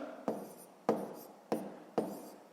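A pen writes by hand on paper in four quick, evenly spaced strokes, each a short sharp scratch that fades out, close and quiet with no talk.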